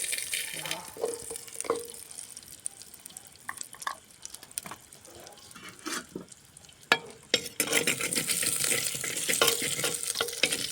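Mustard seeds crackling in hot oil in a clay pot for a mudakathan root soup: intermittent sharp pops and spatters over a soft sizzle, growing busier and louder toward the end.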